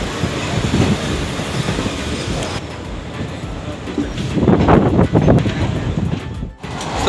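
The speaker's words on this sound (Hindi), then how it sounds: "चलिए 3 मिनट हॉल्ट के बाद अपनी ट्रेन निकल चुकी है वेस्ट चंपारण के बेतिया रेलवे स्टेशन" Garib Rath Express, the 12212 Anand Vihar–Muzaffarpur service, pulling out of Bettiah railway station in West Champaran, a steady broadband rumble of moving rail cars that swells toward the end, heard close by with no talking.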